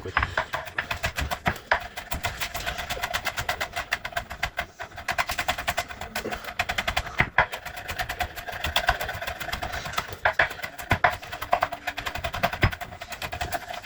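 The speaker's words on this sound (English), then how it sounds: "We're just going to chop this garlic up real quick." Rapid, sharp knife taps strike a cutting board as garlic is chopped, in a fast, continuous rhythm, close and crisp, with brief pauses.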